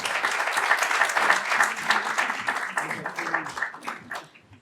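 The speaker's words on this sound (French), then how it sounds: "Merci de l'applaudir." Audience applause at a talk on philanthropy and youth democratic engagement, a warm burst of many hands clapping that holds strong, then thins and fades away toward the end.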